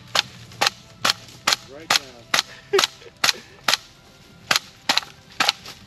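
An AK rifle fired outdoors at a bushcraft camp gives a rapid series of about thirteen sharp, loud cracks at a steady, slightly uneven pace, with a brief spoken word in between.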